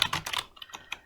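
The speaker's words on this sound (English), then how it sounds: "you will start typing" Quick, uneven keystrokes on a computer keyboard, a short burst of close clicking taps with small gaps between them.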